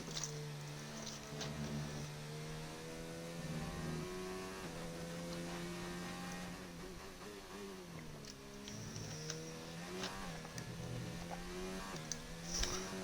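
A race car engine in a sim racing game at Silverstone drones steadily, its pitch climbing and dropping through gear changes and corners for the whole stretch. It is faint and distant, with brief sharp ticks on top and no talking.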